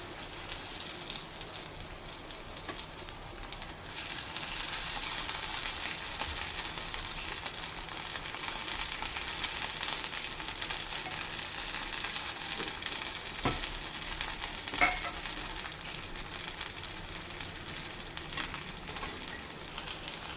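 Fried mackerel pieces sizzle steadily in a masala pan with a spoonful of ghee or coconut oil, a continuous soft crackling fry with occasional faint utensil clinks, and no talking.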